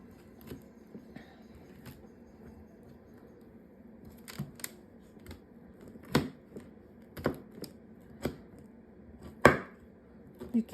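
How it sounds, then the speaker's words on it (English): Knife cutting into a Hawaiian pumpkin crunch cake with a nutty bottom layer, giving scattered sharp crunchy cracks and clicks, sparse at first and growing louder and closer together, over a quiet background. "You can you can hear the nuts on the bottom of the cake."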